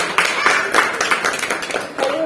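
An audience at a village honouring ceremony breaks into quick, scattered applause, close and lively, mixed with voices throughout.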